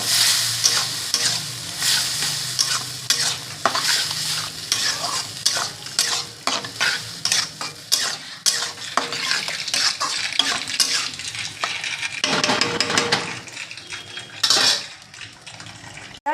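Boiled dal stir-fried in a pan, with a spoon scraping and knocking in a steady rhythm over a soft sizzle, close and fairly loud, with no talking.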